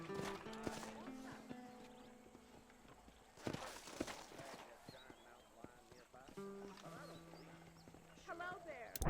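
Horse hooves in the open-world western game Red Dead Redemption clip-clop in a walking rhythm, with a whinny and ambient game sounds, while someone talks over it.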